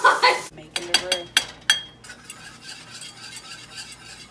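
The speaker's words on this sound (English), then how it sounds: "So you just whisk it in a little at a time, and usually like whisk pretty often" Flour being whisked into melted butter in a pan for a mac and cheese roux: a quick run of close metal clinks and scrapes from the whisk against the pan, then a quieter stirring rustle, with a brief voice at the start.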